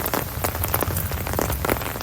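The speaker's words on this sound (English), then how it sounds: "Once again, I apologize for the rain." Rain falling steadily during an outdoor show, a dense close patter of drops hitting a surface throughout, loud and unbroken, with no voices.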